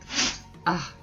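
A single close sneeze: a breathy burst, a short pause, then a sharper second burst, heard indoors with no speech.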